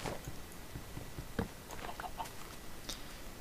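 Chicken clucking in the Minecraft video game, short soft clucks scattered over a steady background hiss, with no talking.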